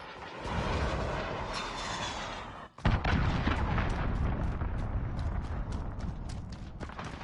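Cruise missile strike explosions in Call of Duty: Modern Warfare, a dense roaring barrage of blasts broken by a sudden sharp gap and a heavy boom, followed by rapid crackling impacts that continue loudly.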